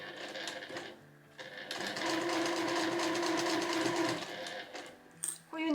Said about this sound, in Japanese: 重なりの部分は必ず返し縫いをしていきます。